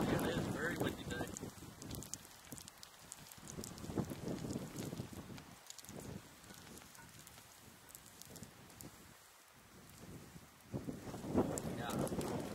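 Strong wind buffets the microphone with steady, heavy rumbling gusts that rise and fall throughout, and faint voices come through underneath.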